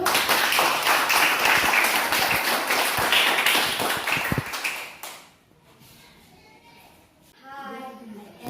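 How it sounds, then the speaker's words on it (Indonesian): A classroom of children claps hands together in uneven, rapid bursts for several seconds, then stops abruptly; quieter room sound and children's voices follow. "Okay, clap hands, tepuk tangan dulu"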